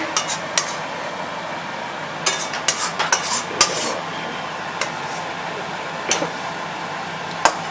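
A metal spatula scraping and knocking in a pan while stirring a stiff, dough-like pea kochuri filling, giving irregular sharp clinks and scrapes over a low background hiss.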